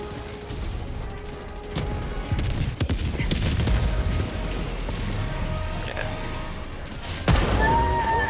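Gunfire in the video game Helldivers 2 rattles in dense, loud bursts with booms and crashes throughout, under a steady mix of battle noise.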